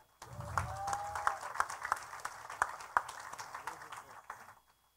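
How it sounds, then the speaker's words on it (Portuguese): A church congregation at an Easter service claps in scattered, moderate applause for several seconds, with voices mixed in before it fades out. "Dê uma salva de palmas."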